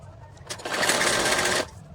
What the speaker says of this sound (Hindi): अब ये आधा इंच की दूरी पे मैं सिलाई लगाती हूँ इसकी